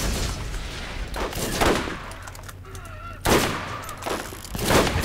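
Bursts of rapid gunfire blasting at enemies in Borderlands, loud and close, coming in several separate volleys with brief lulls and faint game effects between them.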